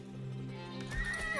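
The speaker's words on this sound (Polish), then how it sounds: "to zróbmy sobie kilka koni." Horse in Age of Empires 4 gives a short, close neigh that rises into a shrill whinny, with a faint clip-clop of hooves under it.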